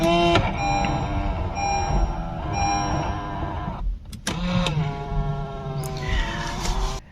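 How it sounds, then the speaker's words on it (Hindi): Electric motor whir of the power-folding side view mirrors on a 2021 Honda City 1.2L CVT retracting, a steady mechanical hum with a couple of brief clicks, close and fairly loud, no talking. "इस गाड़ी के अंदर जो साइड व्यू मिरर्स हैं ये रिट्रैक्टेबल हैं"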